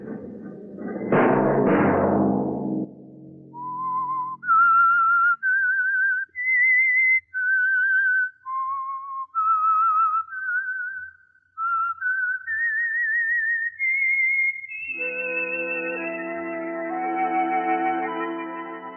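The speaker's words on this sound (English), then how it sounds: "Let that whistle be your signal" A clear, melodic whistled tune, the theme of the old radio drama The Whistler, rises and falls through a series of sustained notes, alone, then fades into a soft orchestral swell.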